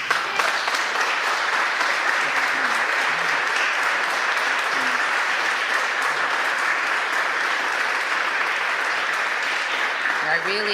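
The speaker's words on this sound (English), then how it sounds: "I give the applause right back to you" An audience applauds at a government life sciences announcement, a sustained, full round of clapping from a crowded room that holds steady for about ten seconds.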